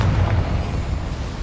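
A Confringo blast spell going off in a mine in the Hogwarts Legacy video game, a loud deep boom with rumbling low end that decays over about a second.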